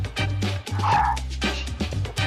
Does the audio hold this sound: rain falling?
no